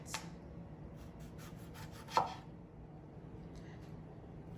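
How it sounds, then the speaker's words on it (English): A kitchen knife cuts very thin slices, a few soft scraping strokes against a board followed by one sharper tap. It sounds close and quiet, with no voices. "I'm going to slice the other half into very thin slices"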